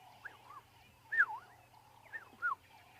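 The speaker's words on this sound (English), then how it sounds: "The oriole in the background like a clarinet." African safari dawn chorus with fluting, clarinet-like oriole phrases rising and falling in several short bursts, other birds calling faintly behind and a low steady hum underneath.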